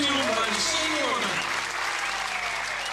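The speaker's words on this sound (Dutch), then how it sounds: "Maak een applaus voor Bart Helmholt, kampioen bij de senioren" A crowd applauds senior champion Bart Helmholt at a prize ceremony where a trophy is presented, a thick, steady wash of clapping filling the whole stretch while a voice talks over it.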